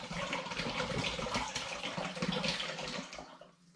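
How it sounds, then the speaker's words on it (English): Banana toffee tea pours into a cider fermentation vessel, a continuous splashing gush of liquid that runs for a few seconds before tapering off. "Yeah, it does make a little bit of splash."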